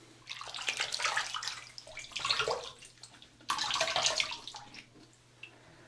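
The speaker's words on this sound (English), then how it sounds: "Okay, let's have a rinse." A cartridge razor rinsed under a running tap, water splashing and gurgling close by in uneven bursts, pausing briefly midway before a second strong rush that fades out, with no speech.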